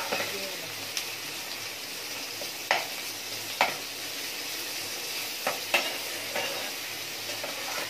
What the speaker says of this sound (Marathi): आता मी कांदा टाकून घेते।